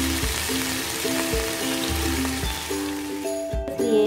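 Ginger garlic paste hits frying onions in a pot, setting off a steady, close crackling sizzle that runs throughout, with faint tonal background music beneath.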